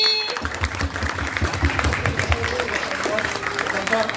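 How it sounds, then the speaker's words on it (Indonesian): An audience applauds with dense, steady clapping for several seconds at a youth preaching competition, with some voices audible underneath. "Tepuk tangan sekali lagi."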